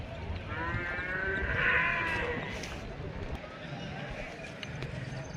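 Calves and cattle at a busy livestock market in Lakshmeshwar, with a drawn-out bovine moo rising from crowd noise around the middle, set against steady chatter and general market din.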